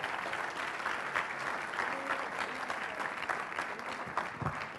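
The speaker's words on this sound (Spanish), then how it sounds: "Denle un aplauso a Dios, por favor," A church congregation applauds, a steady wash of many hands clapping at moderate loudness throughout.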